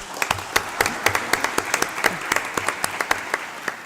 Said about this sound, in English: I would like to ask you for a round of applause for the panelists